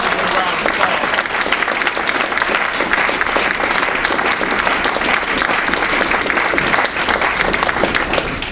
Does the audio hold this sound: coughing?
no